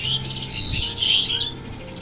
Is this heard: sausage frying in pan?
no